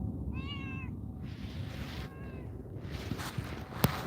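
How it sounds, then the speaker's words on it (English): A kitten meows twice outdoors, short rising-falling cries close by, set against a low background hum and a few light taps. "Is it someone's kitten?"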